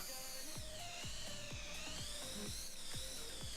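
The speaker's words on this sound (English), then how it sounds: "It's a 5-inch with cringe dental drill sound effects" A simulated 5-inch racing drone in the Velocidrone flight game gives off a thin, high-pitched whine like a dental drill. It rises and falls with the throttle, while sharp clicking ticks repeat in a steady rhythm beneath it.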